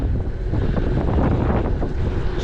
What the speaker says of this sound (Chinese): 今天不知道怎么风这么大，呼呼的